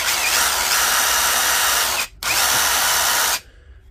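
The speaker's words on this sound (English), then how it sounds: "Today we've got this DCF887 Dewalt impact driver" A DeWalt DCF887 three-speed impact driver with a faulty switch runs at a loud, steady whine, cuts out briefly, then runs again before stopping, close up and with no talking.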